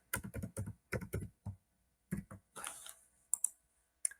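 A password is typed on a computer keyboard while signing up for DeepSeek: quick clusters of close, crisp key clicks separated by short pauses, with a few sharper taps near the end.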